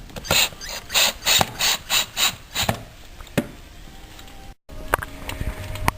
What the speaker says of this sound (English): we're putting 2 screw in, one there